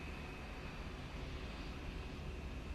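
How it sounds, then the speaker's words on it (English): Steady, faint jet engine hum from a Delta Airlines Boeing 737-800 idling on the runway in a flight simulator, a constant low rumble with a thin high whine above it, no voices. "Delta Airlines 737-800, just waiting on the runway."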